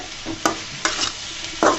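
Eggplant and onion frying in a pan of hot oil, sizzling while a utensil scrapes and stirs three times in quick strokes; no voices.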